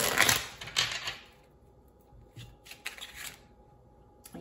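A deck of tarot cards is shuffled in quick riffling bursts, followed by softer flicks and slides as cards are drawn, close and fairly quiet with no talk.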